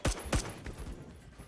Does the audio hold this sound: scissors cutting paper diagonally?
no